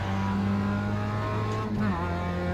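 A Mazda MX-5 race car in the iRacing sim at the Nürburgring, its engine droning steadily under throttle before a quick gear change drops the pitch and it pulls again, loud and close with no talk.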